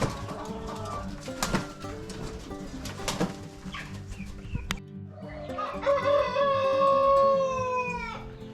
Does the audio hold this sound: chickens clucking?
yes